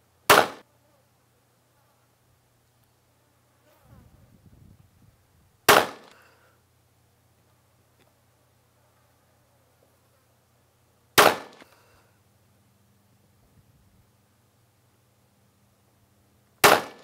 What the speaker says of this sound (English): let's go ahead and see if this rifle will eat it up